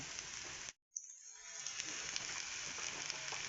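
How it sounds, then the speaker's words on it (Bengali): Soybean chunks frying in a pan give a steady, close sizzle that cuts out for a moment near the start, then returns loud and continuous with no talking. "এখন আগে আমি সয়াবিনটা একটু ভেজে নেব, তারপর ওই সবজিগুলো করব।"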